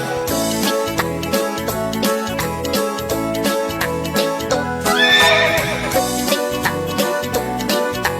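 Horse pulling a delman, a horse-drawn cart, with steady clip-clopping hooves and a rising whinny partway through, set against a lively children's song with a loud backing band.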